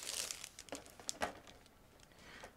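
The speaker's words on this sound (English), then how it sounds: "Here we have everything packed into one plastic bag, and it's a resealable plastic bag, so it's quite quick to open" A resealable plastic bag holding parts of a 1/72 Sea Hurricane Mk.IB model kit is opened, giving soft crinkling and rustling with a few sharper crackles, close but quiet.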